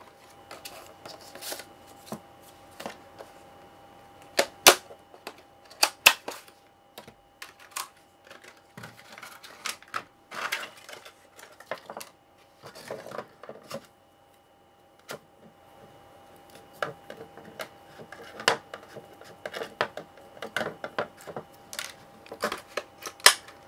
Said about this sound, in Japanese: 開封してみようと思います。